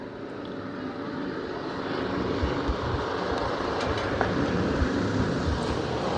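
Racing karts run in a pack around a track at the IKF Grand Nationals, Grand Masters 206 class, a continuous engine drone that swells and stays loud as the group passes.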